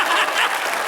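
Congregation clapping inside an Episcopal church, a dense steady wash of many hands applauding together throughout, loud and close with no pauses.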